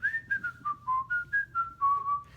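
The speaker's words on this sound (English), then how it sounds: "He's whistling a happy tune." Someone whistles a bright, bouncy melody up close, a quick run of clear notes rising and falling with no talking.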